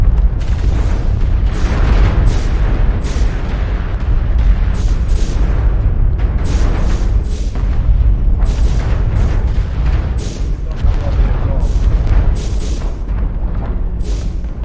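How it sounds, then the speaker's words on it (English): Artillery strike explosions in the MechWarrior Online video game: a dense, continuous barrage of loud, overlapping booms and rumbling blasts that runs without a break. "Artillery strike online."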